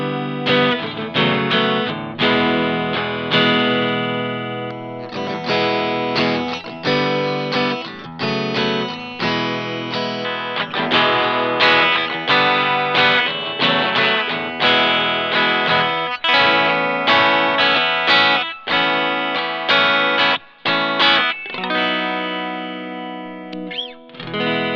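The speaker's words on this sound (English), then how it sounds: "So quite a clean sound there on the 3 different pickup positions" Clean electric guitar tones from a 2018 Fender 60th Anniversary Jazzmaster, played through three pickup positions with light reverb, ringing chords and single notes sounding up close and steady with no talk.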